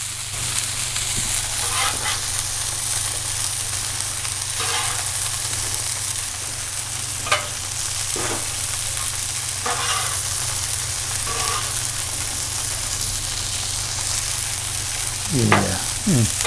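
Cheeseburgers and fries fry on a 22-inch Adventure Ready Blackstone griddle set to low. A steady, close sizzle runs the whole time, broken by occasional scraping strokes of a spatula, with no talk.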